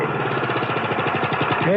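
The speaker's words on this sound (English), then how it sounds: "Just mowing the lawn, Mr. Hardy." A lawn mower engine runs as a radio drama sound effect, a steady, pulsing motor drone heard close up throughout.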